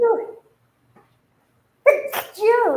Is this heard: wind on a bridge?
no